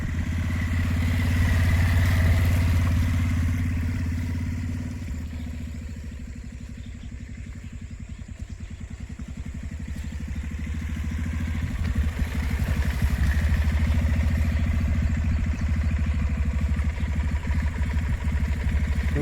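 A Bajaj Pulsar motorcycle being ridden, its engine a low steady rumble with clattering mechanical texture that swells, dips in the middle and rises again over about nineteen seconds.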